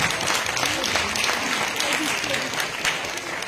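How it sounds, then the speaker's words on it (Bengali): Loud, continuous applause from a live audience at a stage event with performers, steady clapping from many hands filling the whole stretch. "আমরা সবাই সবার জন্য একটা জোরে হাততালি দেবো সবাই"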